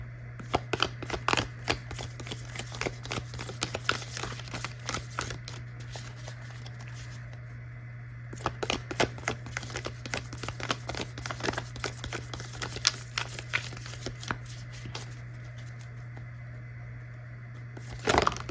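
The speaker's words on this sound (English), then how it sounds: "I'll get a couple tarot cards, and then I have a couple oracle cards as well" Tarot and oracle cards shuffled by hand, a steady run of soft papery riffling and flicking with brief pauses, close and moderately quiet over a constant low electrical hum.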